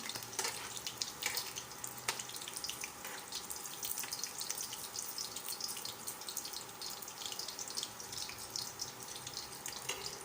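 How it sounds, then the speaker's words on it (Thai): Shellfish frying in hot oil in a home kitchen pan gives off a steady, quiet sizzling hiss with scattered crackles and pops, with no talking over it. "ก็ทอดไปอีกแปบหนึ่ง การทอดไม่น่าจะเกิน 5 นาทีนะคะ"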